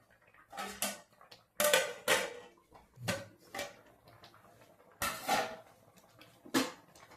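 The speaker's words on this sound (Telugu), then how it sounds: "ఇప్పుడైతే ఇదిగోండి ఇలా మెల్లగా కలుపుకోవాలి" Ragi flour and rice being stirred in a cooking pot on a village stove, with a spoon scraping and clanking against the pot in several uneven bursts separated by short quiet gaps.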